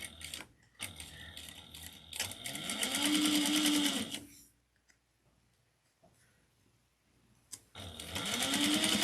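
A sewing machine back-stitches a handbag in two runs of fast, even motor-driven stitching that ramp up to speed and then stop. A quiet gap separates the two runs.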